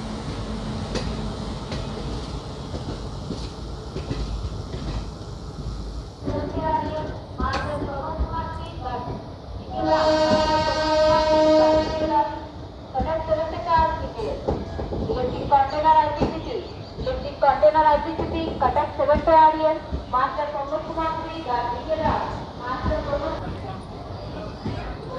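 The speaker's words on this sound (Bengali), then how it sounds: "ট্রেন কিন্তু এখনও রুকছে না, ট্রেনটা চলতেই থাকছে" A passenger express train from Howrah to Pune rolls steadily through Kharagpur station, its low continuous rumble and rattle running beneath someone talking throughout.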